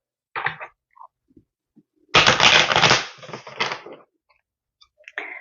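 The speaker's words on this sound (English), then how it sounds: "Let's go ahead and give the cards a shuffle" Tarot cards from a Frida Kahlo deck being shuffled by hand, a short riffle followed by a longer burst of close, crisp papery rustling and a few faint taps, with no talking.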